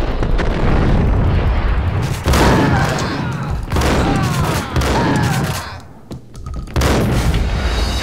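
Gunfire in Max Payne erupts in loud, close bursts of rapid shots and booming blasts, coming in several volleys separated by short gaps with one brief near-quiet lull.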